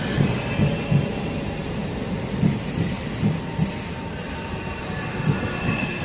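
Class 465 train 465191 rumbles steadily through Dartford station, with low wheel and motor noise and faint rhythmic clicks over the rails and no voices.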